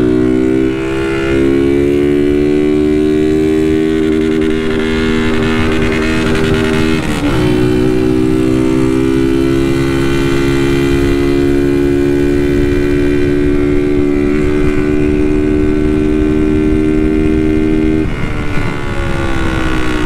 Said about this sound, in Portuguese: Vamos testar na rua agora, acelerando a motoca.